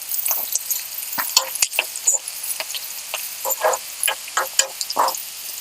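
A spoon stirs bheja (brain) fry with onions, turmeric and ginger garlic paste in a pan. It makes irregular scraping clicks and soft bursts of sizzling, close and clear, with no talking.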